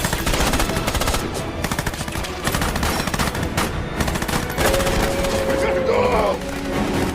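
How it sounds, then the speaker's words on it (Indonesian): An intense gunfire exchange in the war film Sniper, with dense, loud machine-gun bursts and rapid shots hammering continuously, and a brief whistling tone partway through. "terjadilah baku tembak yang sangat sengit"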